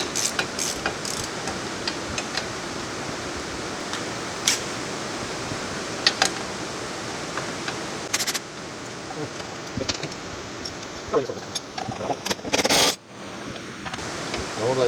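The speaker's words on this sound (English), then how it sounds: "You can probably hear the rain outside." Steady rain hisses outside, a broad continuous wash with scattered knocks and clicks nearby, and occasional brief bursts of noise.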